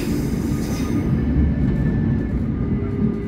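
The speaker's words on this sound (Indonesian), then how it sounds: "kereta api Pangrango diberangkatkan dari stasiun Bogor Paledang" The Pangrango passenger train departing Bogor Paledang station, a steady low rumble of rolling wheels heard from the rear carriage, with a faint thin squeal and no talk.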